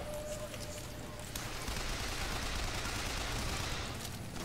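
A crank gun, a hand-cranked rapid-fire weapon in the video game BioShock Infinite, fires in a sustained rattling burst that thickens after the first second, continuous and dense, heard at moderate level without talk.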